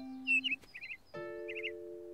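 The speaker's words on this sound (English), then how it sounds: "That sounds like a bird." A chirpy bird in the countryside gives quick bursts of high twittering trills, two or three short groups, over a steady low tonal hum in the background.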